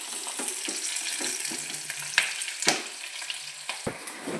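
Food roasting in a pan with repeated stirring: a soft sizzle under clattering scrapes and taps of a spatula at an uneven rhythm, close and fairly quiet.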